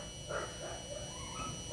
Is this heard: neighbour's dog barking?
yes